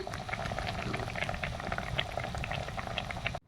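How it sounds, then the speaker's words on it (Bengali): A pot of sour fish curry made with fish caught from the paddy fields bubbles at a vigorous, continuous rolling boil, close and fairly loud with no voices, ending abruptly. "দু মিনিট ফুটে যাক তারপর নামিয়ে নেব তরকারিটা হয়ে গেছে এবার নামিয়ে নিই"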